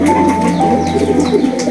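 Pigeons in a rooftop loft cooing close by, a continuous run of low, rolling coos repeated in quick succession, with a faint steady hum underneath.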